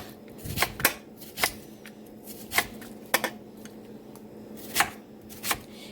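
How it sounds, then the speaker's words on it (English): Knife chopping through an onion on a cutting board while thinly slicing it, a series of crisp, irregular taps close by, with no talking. "I'm just going to thinly slice this guy."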